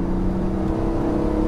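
A BMW Z3 M engine with a five-speed manual gearbox revs at about 4500 rpm in third gear, producing a loud, steady mechanical drone heard from inside the car while cruising.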